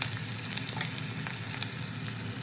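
Onions frying in a pan with a little salt, a steady close sizzle with faint crackles and no voices.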